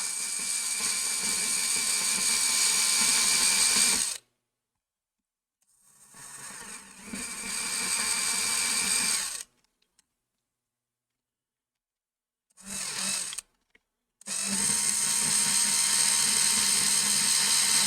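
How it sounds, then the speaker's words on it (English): A handheld power drill whines at a high, steady pitch in several bursts of a few seconds each, stopping and starting with silent gaps between them, during an Atari 5200 console modification at a workbench. "Okay, so I got my trusty drill."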